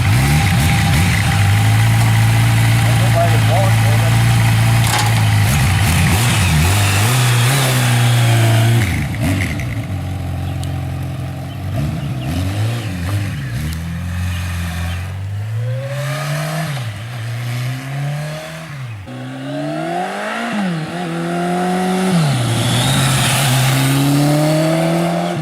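A rare cruiser motorcycle engine idles with a deep, steady thrum, then revs repeatedly in rising and falling sweeps, loud and close throughout.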